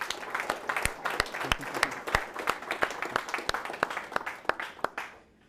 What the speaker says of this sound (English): let's just give them one more round of applause, guys